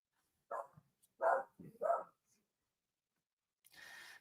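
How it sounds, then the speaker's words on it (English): A pet dog barks indoors in three or four sharp, fairly close barks in quick succession, followed by a pause and then a brief fainter rustle. "If you heard my dog barking just now"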